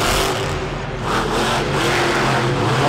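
Saigon Shaker monster truck roaring at full throttle during a Monster Jam event in San Antonio, a loud, dense, steady engine blare that swells slightly midway with no talk over it.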